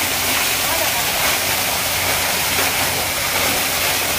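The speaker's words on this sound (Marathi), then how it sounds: "धबधबा आहे इकडे, धबधबा" A rain-fed waterfall roars as a loud, steady wash of falling water, close and unbroken throughout.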